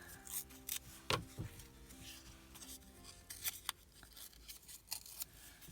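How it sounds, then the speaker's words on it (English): Paper torn by hand around a postage stamp for a junk journal, heard as a few sharp ripping and crinkling bursts separated by short pauses, close and fairly quiet, with no voice. "I'm going to go ahead and tear around it."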